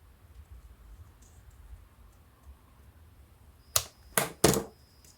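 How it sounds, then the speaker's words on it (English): Scissors cut thin one-sided paper into a half circle, giving three crisp, close snips in quick succession after a quiet pause. "cut the half circle."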